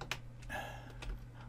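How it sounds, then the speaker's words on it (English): Keys on a computer keyboard at a business server clatter in a quick, uneven run of soft taps, close by over a low steady hum. "I'm sorry my typing"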